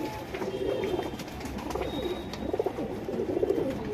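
Dhuma rakdar pigeons coo repeatedly at close range, with soft rolling calls rising and falling in a steady rhythm over light background noise.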